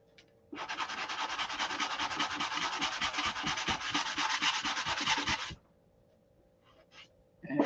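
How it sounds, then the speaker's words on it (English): Brisk hand sanding on the finish of a SIG Magnum pistol, a burst of rapid scratchy back-and-forth strokes lasting about five seconds, close and fairly loud, then quiet with a faint scrape. "Sand that off."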